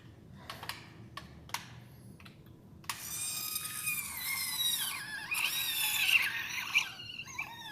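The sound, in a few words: surgical drill running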